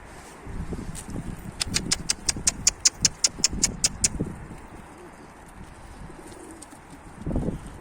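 A pigeon coos in a quick run of about a dozen soft pulses, fairly close, with muffled rustling and a faint voice around it.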